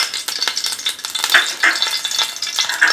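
Cardamom sizzles and fries in hot oil as a tempering for jaggery rice, with a steady close crackle, stirring noises and no voices.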